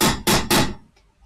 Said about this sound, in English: Here, use a metal hammer.